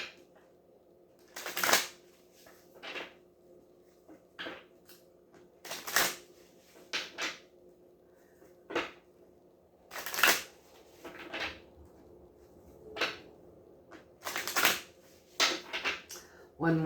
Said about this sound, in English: One more shuffle. We'll cut them 3 times.